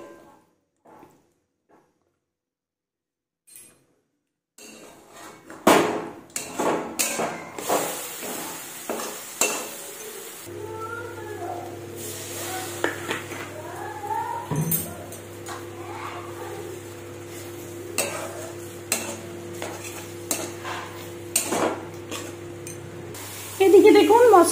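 Capsicum and spice paste fry in a pan, with a quiet start giving way to spoon-and-pan clatter and stirring, then a steady sizzle beneath intermittent scraping.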